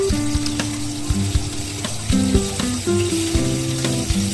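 Green chillies, garlic and black cumin sizzle in hot oil, a steady crackling fry alone and close, with occasional clinks and soft stirring taps throughout.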